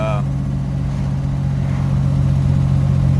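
A 1951 Chevy engine running and revving up with a squealing belt: a loud, steady, close mechanical drone with a sustained hum and a voice speaking over it at the start.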